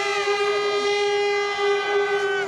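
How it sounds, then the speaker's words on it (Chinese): Baseball fans at a stadium sound an air horn in one loud, steady, sustained blast lasting a couple of seconds, close and alone. "甚至还吹汽笛挑衅。"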